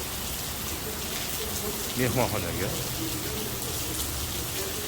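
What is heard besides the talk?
rain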